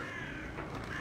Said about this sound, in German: Tauben und Vögel.